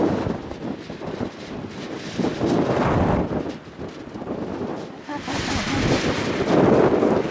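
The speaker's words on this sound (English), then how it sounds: "It's so windy." Strong wind buffets the microphone in loud, roaring gusts that rise and fall continuously, outdoors in Patagonia.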